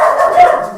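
One of several dogs in a house gives a single short, sharp bark, loud and close, standing alone without talk.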